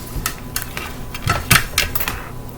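A knife chops through cucumbers on a cutting board, a series of sharp irregular clacks and thuds, close and fairly loud, with no voices.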